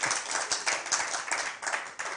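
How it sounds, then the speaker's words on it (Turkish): Dense, steady clapping from a group of hands, brisk and close, filling the moment without pause or talk. "Alkışlıyorum seni."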